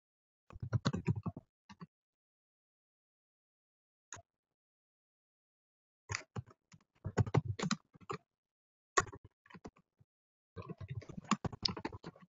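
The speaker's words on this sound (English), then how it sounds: "Ji Young, we can hear you typing" Computer keyboard typed on during an online lecture call, bursts of quick close key clicks separated by silent gaps, some bursts rapid and others just a few isolated taps.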